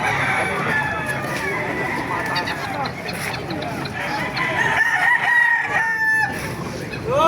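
Roosters crow repeatedly at a busy poultry market in Baliuag, Bulacan, in the Philippines, with clucking fowl and traders talking close by.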